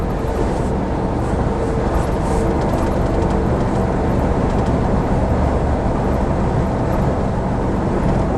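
An articulated lorry overtakes on the road, its passing roar blending into a loud, steady wash of road and engine noise from inside a moving vehicle, with no clear peak as it goes by.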